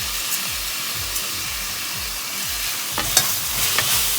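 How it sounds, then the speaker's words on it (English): Vermicelli is stirred into softened tomato frying in a pan, with a steady loud sizzle and rhythmic scraping strokes of a spatula repeating about twice a second, then a few sharp clacks near the end. "once tomato becomes soft, let's add our vermicelli"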